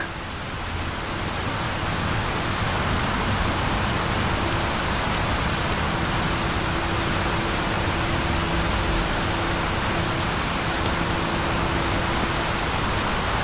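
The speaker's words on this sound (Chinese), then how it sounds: "你不是说你喜欢淋雨吗？" Steady rain pours throughout, an even, dense hiss of drops falling on surfaces, loud and continuous with no talk.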